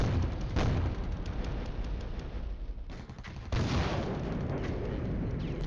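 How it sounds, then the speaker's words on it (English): Artillery bombardment in the war game Flashpoint Campaigns: Southern Storm, with heavy repeated booms and rolling blasts layered over a constant rumble. "they are bombarding us so badly"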